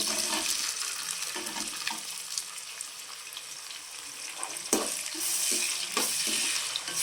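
Onion pieces and green chillies frying in oil for egg rice, a close hissing sizzle with stirring scrapes and a few sharper clicks, no talk.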